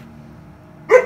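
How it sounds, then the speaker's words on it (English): A dog gives a single short bark at the very end, close and fairly loud, after a quiet stretch of faint indoor hum. "Can you stop barking, please?"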